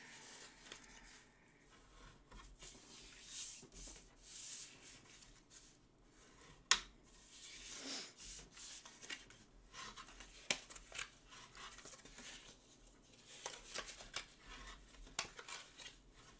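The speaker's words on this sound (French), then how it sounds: "Je marque donc tous mes plis" Fold lines are scored into paper with a scoring tool for a handmade tissue holder, making faint, close, intermittent scraping and swishing strokes with a few small taps, quiet throughout.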